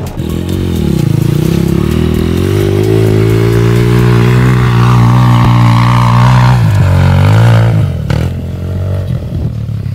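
KAYO enduro motorcycles, a T2 and a CRX 200, on a test ride over wet sand, the engine revving up loudly and holding a rising whine before dropping off sharply near the end.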